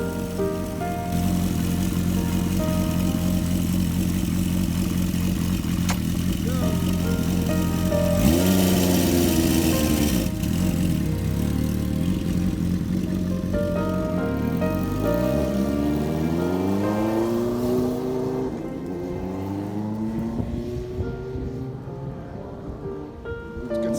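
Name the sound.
1973 Honda CB350F motorcycle test run up the street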